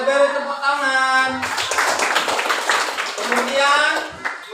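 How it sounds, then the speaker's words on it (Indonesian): A school class applauding in a classroom, a dense burst of clapping hands lasting about two seconds between a teacher's spoken prompts. "Oke, beri tepuk tangan."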